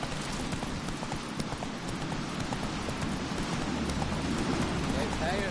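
Hooves clip-clop steadily as a horse moves along in The Witcher 3 video game, a continuous rhythmic clatter over a soft ambient background.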